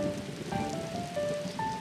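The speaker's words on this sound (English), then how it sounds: "The rains are coming down" Heavy rain falls during the wet season in Panama, a dense, steady patter of drops with faint tonal sounds running underneath.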